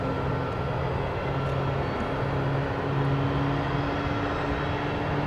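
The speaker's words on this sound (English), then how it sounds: "So here's the flight from Houston Hobby, flight 52, a MAX 8, here on Runway DFW at Dallas Love Field." A Boeing 737 MAX 8 airliner at Dallas Love Field produces a steady, broad roar with a low hum. The sound is continuous and even, heard from some distance, with no voices.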